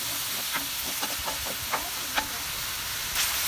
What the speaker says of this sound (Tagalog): igisa naman natin ang ating papaya